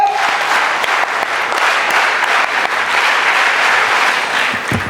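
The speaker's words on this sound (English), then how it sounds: "I want parents to be given a big round of applause." An audience at a school investiture ceremony gives the parents a big round of applause, steady dense clapping from a large crowd that stays loud throughout.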